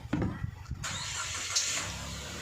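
A Nissan Almera with 150,000 km on it starts up close by, a short cranking burst that catches into a steady idle hum.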